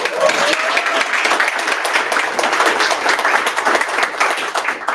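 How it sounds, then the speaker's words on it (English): An audience at a Poets & Pints poetry night gives a loud, steady round of applause that fills the whole stretch without letup. "Can y'all give her a round of applause?"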